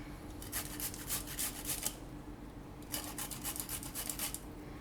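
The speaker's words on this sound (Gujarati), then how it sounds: "તો આપણે આદું લીધું છે છાલ કાઢીને, એને આપણે છીણીને લઈ લઉં." Peeled fresh ginger grated by hand in a home kitchen, two runs of quick rhythmic rasping strokes separated by a short pause, close and soft, no talking.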